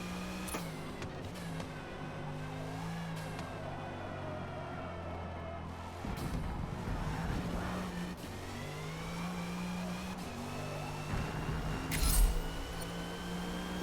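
A 2021 Audi RS 6 Avant in Forza Motorsport at Mid-Ohio, its engine droning and revving through shifting throttle, with tonal whine rising and falling and brief bumps and clunks, steady and continuous.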